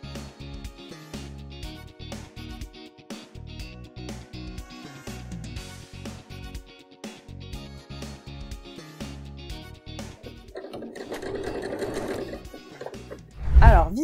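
A sewing machine stitches a fabric pleat in fast, even bursts of mechanical clatter, stopping and restarting several times, then falls quiet before a sharp thump at the end; nobody talks.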